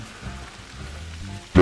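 Rain in the hunting video game theHunter: Call of the Wild, a soft steady patter held low in the background, then a sudden loud burst at the very end.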